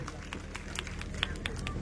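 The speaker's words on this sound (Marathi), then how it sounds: "जोरदार टाळ्या झाल्या पाहिजे वहिनींसाठी" A crowd claps for a woman being honoured at a Home Minister Paithani game event in Uruli Devachi, with steady, dense applause mixed with crowd murmur and voices.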